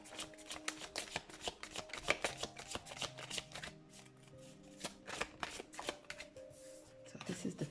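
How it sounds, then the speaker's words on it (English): Tarot cards are shuffled by hand in a quiet room, a close series of crisp riffling flicks and soft slaps in uneven bursts, with a brief pause in the middle. "I'm gonna start shuffling for you guys. I'm gonna start with the tarot cards"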